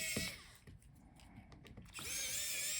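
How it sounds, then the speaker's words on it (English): An electric screwdriver whirs in short close bursts, removing the hinge screws on a Lenovo IdeaPad Slim 7 14ITL05 laptop, with small clicks and pauses between spins and a longer sustained run at the end. "So let's unscrew the screws for the hinges."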